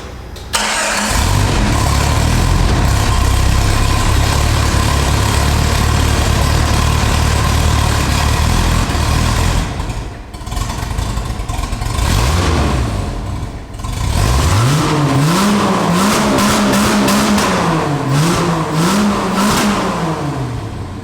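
A 1988 Jeep Wrangler YJ on 40-inch tires fires up and idles loudly with a deep exhaust rumble, then pauses briefly before being revved repeatedly in rising and falling sweeps, close and powerful throughout.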